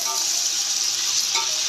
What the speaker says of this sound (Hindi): अब हम इसमें शामिल कर देंगे मुर्गी,